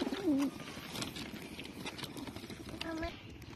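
Soft, throaty cooing from a bird, one close call at the start and another later, over a background of outdoor noise and faint voices.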